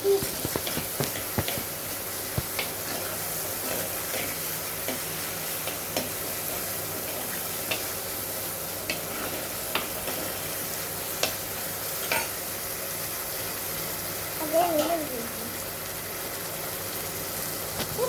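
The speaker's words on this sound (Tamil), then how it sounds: "தக்காளி போட்டுக்கணுங்க. நல்லா கிண்டிக்கணும்." Tomatoes being stirred and fried in a pan for sambar, a steady soft sizzle with scattered scraping clicks of the spoon, close and moderately loud, no one talking.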